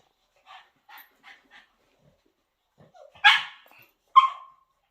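Two dogs, one a pug, play together with a few short soft yips followed by two sharp, loud barks close by, with gaps of quiet between.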